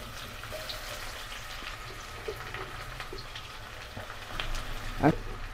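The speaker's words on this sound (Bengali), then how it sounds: "এবার আমি তেজপাতা দিচ্ছি। পেঁয়াজ দিচ্ছি।" Bay leaves and onion sizzle in smoking-hot oil for a Bengali coconut and green chilli mutton dish, giving a steady, fairly quiet crackling hiss throughout.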